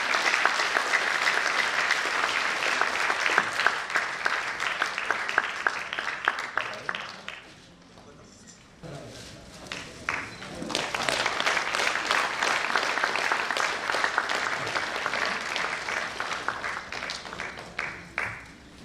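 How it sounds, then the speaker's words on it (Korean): A congregation at a Korean peace and reunification prayer meeting gives loud, dense applause that dips briefly midway and then swells again, with no talking over it. "여러분 뜨거운 박수로 축하해 주시길 바랍니다"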